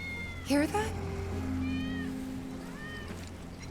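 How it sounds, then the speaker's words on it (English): A cat meows in Final Fantasy 7 several times, a sharp cry followed by softer, drawn-out mews, heard against low game ambience with no one speaking over it. "That's Wedge's cat."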